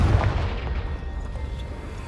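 A Confringo blasting spell bursts in Hogwarts Legacy against a piled-up barricade, opening on a deep booming blast that rumbles low and heavy, then settles into a sustained dull roar over two seconds.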